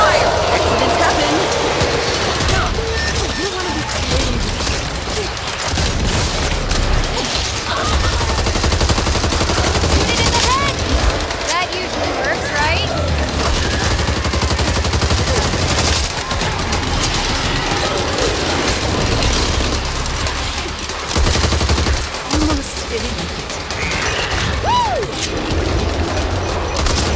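Continuous gunfire in Back 4 Blood, sustained automatic shooting mixed with clattering combat noise and occasional louder bursts for the whole stretch, with some game voices underneath.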